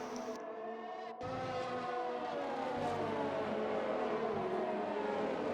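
F1 cars in a video game race at a Spanish circuit, including a Renault, Red Bull and Mercedes, roar past with sustained high-pitched engine whine, loud and continuous after a brief dip near the start.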